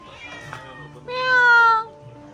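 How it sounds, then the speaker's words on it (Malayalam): A cat meows nearby, a brief soft call and then a louder drawn-out meow, with a person's voice murmuring quietly beneath. "പല ഐറ്റം പൂച്ചകളുണ്ട് കേട്ടോ ഇവിടെ."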